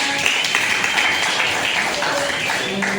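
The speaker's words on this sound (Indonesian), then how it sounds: "Kasih tepuk tangan untuk Ryan" A small group of students claps for a classmate in a classroom, a soft, continuous patter of many hands at moderate distance.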